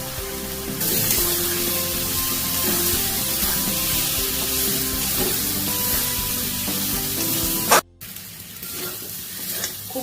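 Spice masala with ginger and garlic being fried together with pre-fried potatoes, a loud, dense sizzle and scraping stir close by that cuts off abruptly near the end, leaving quieter kitchen sounds.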